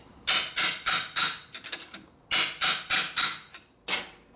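A hammer strikes a transmission part on a 1967 Harley-Davidson 74ci Shovelhead FLH during assembly. About a dozen sharp, close metallic blows come in quick bursts, with a few lighter taps between heavier hits and no talking.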